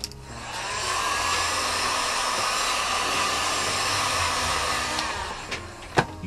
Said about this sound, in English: just literally blow it over with some hot air